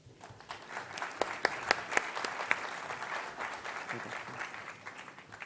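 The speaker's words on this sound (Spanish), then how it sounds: "Lo recibimos con un aplauso." Applause from a seminar audience welcoming a speaker to a biogas seminar, fairly quiet and a little distant, with a few sharper claps near the start that thin out as the clapping fades.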